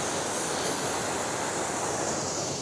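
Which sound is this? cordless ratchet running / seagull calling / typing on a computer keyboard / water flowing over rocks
water flowing over rocks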